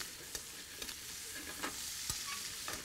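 Italian sausage frying and browning in a pan, a steady close sizzle with a few sharp spatula scrapes and stirs breaking through at irregular moments.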